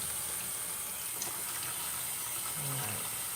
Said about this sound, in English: heat it up with hot water so I can sanitize my dishes